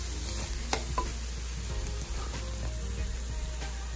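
Squid coconut stir fry sizzles steadily in a pan, with a continuous frying hiss, a few sharp clinks and scrapes of stirring, and no voices.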